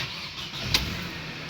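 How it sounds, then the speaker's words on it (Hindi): A 2005 Mercedes C200 engine starts with a brief starter burst that catches into a steady, fairly loud running sound, heard alone with no talk. "ये आपकी गाड़ी स्टार्ट हो गई माशाल्लाह।"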